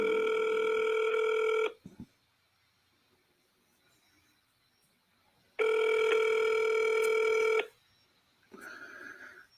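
A telephone call rings through before going to voicemail: two long, loud electronic ring tones with a silent gap between them, then the start of a third, heard close and alone.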